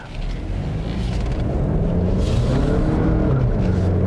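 2021 Mazda CX-30 Turbo with all-wheel drive floored out of a turn, engine drone rising steadily in pitch under full throttle, loud and continuous from inside the cabin, no talk.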